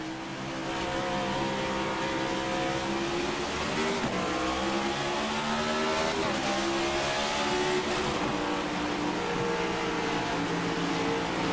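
Race cars restart at full throttle in an iRacing eNASCAR race at the Milwaukee Mile; a dense, continuous roar of many engines revving and passing, steady and loud with shifting pitch throughout.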